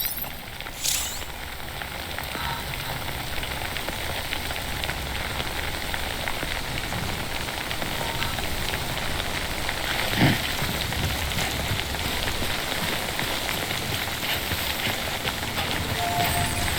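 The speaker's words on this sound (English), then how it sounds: "Don't stay out in the rain any longer than you have to." Steady rain falling in the video game Death Stranding, a dense, continuous hiss of drops that holds at an even level throughout, with a couple of faint brief knocks and no voices.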